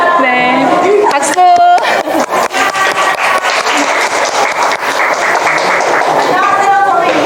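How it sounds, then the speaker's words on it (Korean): Audience applause during a youth parliament lecture at the National Assembly, a broad sustained wash of clapping filling the room, with voices and brief tonal sounds mixed in. "박수."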